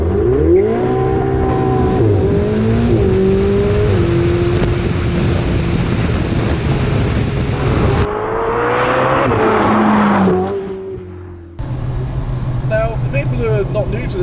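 A Ferrari supercar drives through the Pyrenees, its engine droning loud and close with shifting pitch as it accelerates and changes gear, then briefly drops away before cabin noise returns.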